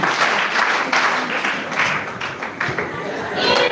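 An audience claps and applauds at a live pilgrimage gathering at a Catholic shrine, producing a dense, loud and steady wash of clapping that swells and fades slightly over several seconds, with some speech mixed in.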